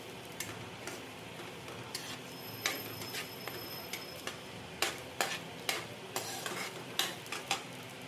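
Grated coconut dry-roasts in a pan over a low flame, with soft crackling and a quick series of sharp scraping and tapping stir strokes, close and alone with no talk.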